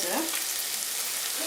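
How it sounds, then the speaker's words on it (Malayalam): Chopped onions hit a hot pan and sizzle steadily while noodles made from atta are being cooked, a close, even frying hiss that carries on throughout without talk. "സവോള അരിഞ്ഞു വെച്ചത് ഇടുകയാണ്."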